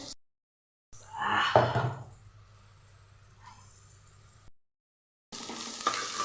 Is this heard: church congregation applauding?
no